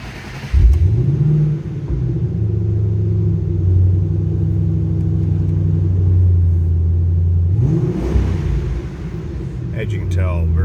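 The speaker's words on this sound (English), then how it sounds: "I'm going to start this up so you can hear this car run." A 2007 Ford Mustang Roush 427R convertible rumbles at a deep, steady idle with a low exhaust burble, a brief blip of revs near the end, heard close up and loud.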